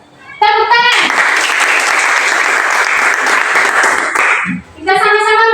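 Applause from a classroom audience breaks out loudly and holds steady for several seconds, with a voice speaking briefly just before and again right after.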